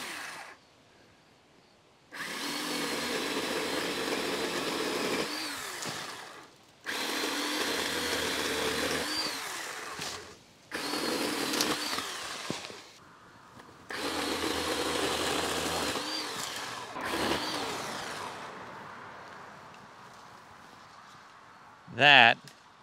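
A cordless 40-volt Ryobi pole saw with an 8-inch bar whines in several sustained bursts separated by short pauses, close by, undercutting a branch, ending with a sharp clack.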